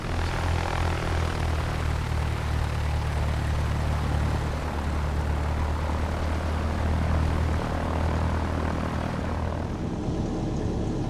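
A Piper PA-18 light propeller plane taxiing in the X-Plane 12 simulator, its engine holding a steady, loud droning hum with a low, throbbing rumble throughout and no voices.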